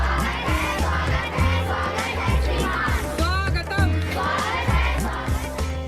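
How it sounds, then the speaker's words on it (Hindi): A large crowd gathered at Babua Ghat in Munger on the river to see the world's biggest river cruise, loud continuous chatter and shouting with children's voices, over a rhythmic drum beat. "दुनिया के सबसे बड़े रिवर क्रूज को देखने के लिए लोगों की भीड़ जुटी"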